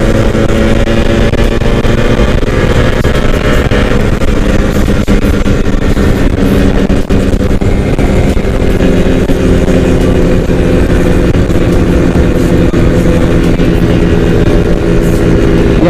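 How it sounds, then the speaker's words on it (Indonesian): Strong wind roars steadily against a motorcycle riding over a city flyover at night, mixed with the rumble of the engine and road noise. The sound is loud, continuous and close throughout, with no speech. "Soalnya anginnya kenceng banget ini."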